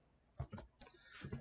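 Computer keyboard typing under Windows 10: a few close, distinct key taps in small bursts, then a quicker cluster of keystrokes near the end, with no voice.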